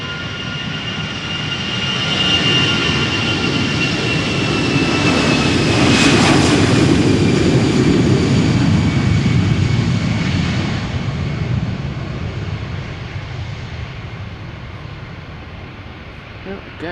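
An Aer Lingus airliner on its flight to Dublin takes off from Amsterdam Schiphol, its jet engines swelling into a loud, close roar that peaks midway and then slowly fades as the aircraft climbs away.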